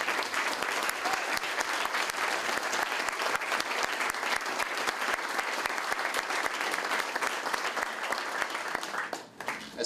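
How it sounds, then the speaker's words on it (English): Sustained applause from a community groundbreaking crowd honoring staff, dense and even clapping that holds for nearly ten seconds before briefly dipping at the end. "So how about a round of applause for them?"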